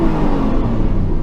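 Aston Martin 4.7 litre V8 revving before a drag race, a loud, steady, close engine roar held throughout without speech.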